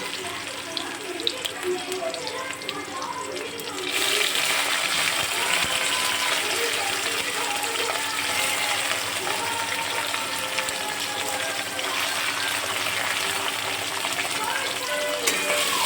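Prawns frying in hot oil with chopped onion, a moderate sizzle that swells into a loud, dense, continuous hiss partway through as they hit the pan, heard close up.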